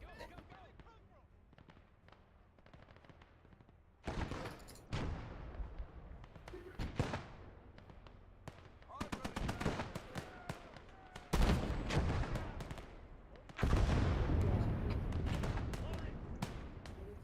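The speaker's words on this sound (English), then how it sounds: "Use your howitzer to destroy the tanks." Howitzer artillery blasts against tanks in a WWII-style combat game, heavy booming shots arriving in irregular bursts over continuous battle noise, with louder close impacts toward the end.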